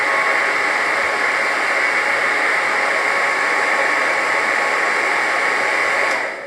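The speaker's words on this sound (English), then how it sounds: "So you simply want to start with turning your hairdryer on low" A hair dryer set to low blows with a steady, loud, continuous whoosh for several seconds before switching off at the end.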